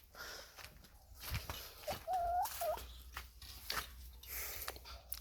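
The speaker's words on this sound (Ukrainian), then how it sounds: "Кури насолоджуються теплими днями" Chickens cluck softly nearby, with one drawn-out squawking call in the middle, among light scuffling and rustling.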